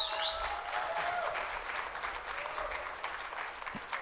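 A forum audience in Seoul applauds a guest, sustained clapping from many hands that slowly thins toward the end.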